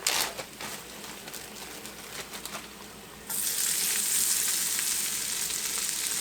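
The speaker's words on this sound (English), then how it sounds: "put my onions in here and let them cook down some" Onions cook down in a pan on low heat with a soft, continuous sizzle and a few scraping stirs, then the frying swells suddenly louder and brighter and holds steady close by.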